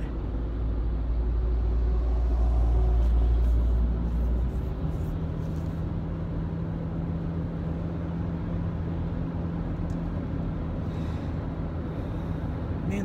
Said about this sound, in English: traffic on the other side is horrible.